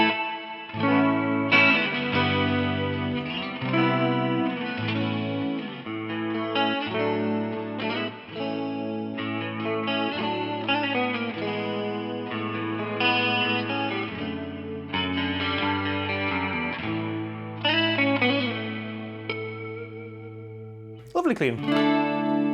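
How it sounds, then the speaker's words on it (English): Clean electric guitar through a Line 6 POD Express with a shimmering chorus effect, chords and melodic lines played steadily, close and fairly loud, ending with a brief noisy burst. "it's nice to have a clean amp with a little bit of chorus and stuff"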